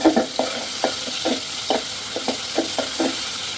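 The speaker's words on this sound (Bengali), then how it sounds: "একটু ভাজা ভাজা হলে আমি রসুন বাটা দিয়ে দিব" Onion, green chilli and salt fry in hot oil for a fish curry, giving a steady sizzle broken by about ten regular scraping stirs of a spatula, close and loud, with no one speaking.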